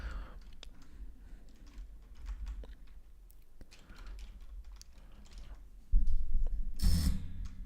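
Rapid typing on a computer keyboard, a close, steady patter of key clicks with brief pauses and a louder burst of keystrokes near the end.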